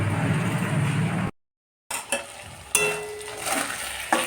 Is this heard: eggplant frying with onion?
yes